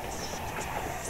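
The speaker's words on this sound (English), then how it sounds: "A train just ran by." A passing train gives a brief, steady roar of rumble and hiss, loud and continuous throughout with no clear clacks standing out.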